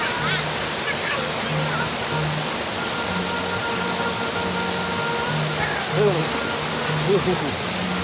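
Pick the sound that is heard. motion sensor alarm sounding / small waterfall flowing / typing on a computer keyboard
small waterfall flowing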